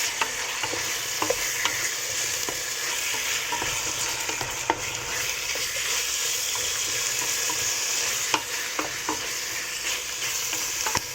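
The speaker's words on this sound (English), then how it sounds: "Let it fry on the one." Steak sizzles steadily in a hot pan for a Samoan sapasui dish, a constant close frying hiss with occasional scraping stirs and light clicks, no voices.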